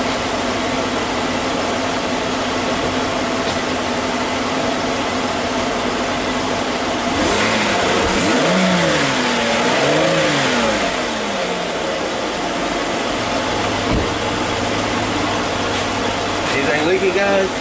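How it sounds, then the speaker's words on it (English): A 2008 Chevy Impala engine with electric throttle idles, then is revved a couple of times, the pitch rising and falling in swells over a steady hum, with people talking nearby. "this is an electric throttle, so I'm going to wrap it up a couple times and see what happens"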